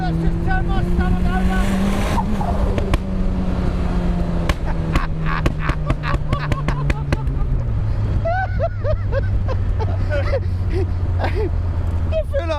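A Mazda MX5 fitted with a motorbike engine, driven hard, whines loud and close, its pitch climbing and falling through quick gear changes, while people talk over the din throughout.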